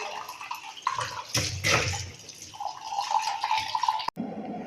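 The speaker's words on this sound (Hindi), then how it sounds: "अभी हम गाइस कप धो रहे हैं" A cup is washed under a running tap, with water splashing and dribbling unevenly against the cup, close up and fairly loud with no talking.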